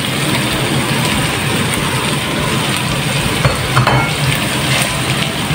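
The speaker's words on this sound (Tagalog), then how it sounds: "Gigisa po natin." Garlic, onion and ginger sizzle steadily in hot oil as the base for papaitan, a loud, dense frying hiss that stays continuous throughout, with a few brief scraping stirs and no talking.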